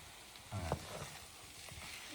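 Sausage mixture being stirred in a frying pan, a soft low sizzle with a couple of spoon scrapes, quiet and close with no talk.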